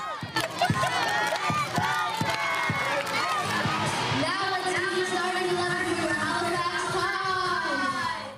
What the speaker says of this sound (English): They're all cheering and so excited that one of their own gets to be on the pitch today.